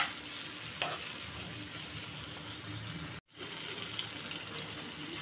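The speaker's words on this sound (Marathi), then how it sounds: "आता हे भाज्या यात मिक्स करून घ्यायचे" Vegetables being stirred into a thick bhuna masala gravy in a hot pan, giving a steady close sizzle and scraping for several seconds, broken by a brief silent gap near the end before the sizzle resumes.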